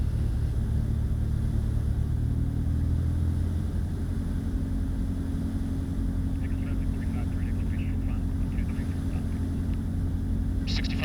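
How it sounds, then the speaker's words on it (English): A 1966 Mooney M20F light aircraft engine pulled back to idle in flight, a steady low droning rumble and hum inside the cabin with faint higher clicks toward the end, no talk. "I'm high, so I'm going to reduce the power to idle."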